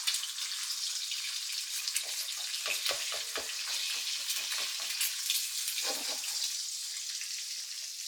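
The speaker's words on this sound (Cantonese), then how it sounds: "好啦，雞蛋落去煎煎佢先。" Eggs frying in hot oil in a wok for Cantonese fried rice give a steady, close hiss of sizzling, with a burst of spatula clatter and scraping in the middle and no talking.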